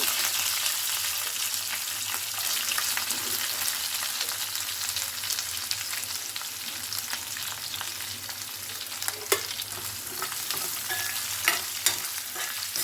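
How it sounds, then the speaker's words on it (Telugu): Two slit green chillies and two thinly sliced onions frying in hot tempering oil, a continuous close sizzle with frequent spatula stirring and occasional sharp taps against the pan. "ఇవి కొంచెం ఫ్రై అవనిద్దాం"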